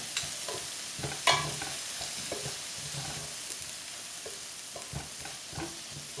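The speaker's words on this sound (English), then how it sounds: "add some onions, some butter. Saute this until they're soft." Onions and butter sizzle steadily in an Aroma ASP-137 electric super pot at 350 degrees, a soft continuous frying hiss with occasional stirring clinks and scrapes, close up and without talk.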